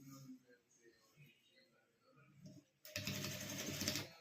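A sewing machine stitches piping onto a homemade cloth doormat, starting abruptly after a few seconds of quiet handling and faint talk, then running loud and steady close by.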